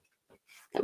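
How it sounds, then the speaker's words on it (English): A cat sneezes once, sharp and close, after a couple of faint sniffling snorts. "it's the cat sneezing."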